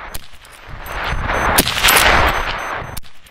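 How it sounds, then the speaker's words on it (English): Rapid fire from a Lee Enfield SMLE No 1 Mk III* bolt-action rifle: a quick string of loud, sharp cracks a fraction of a second apart, with metallic bolt clatter between shots and a final shot near the end. "I would fire 6 rounds and then reload with a 5-round charger"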